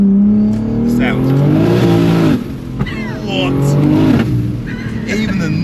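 A 1,500 bhp BMW M3 Touring engine pulls hard in second gear, heard from inside the car with a window down, rising in pitch, dipping at a shift and climbing again, while people talk over it.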